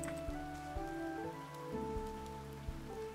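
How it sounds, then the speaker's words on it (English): Steady rain falls in the Snacko video game, a continuous patter of drops with a few soft sharper taps over a tonal music bed, with no voices. "Oh, is it raining?"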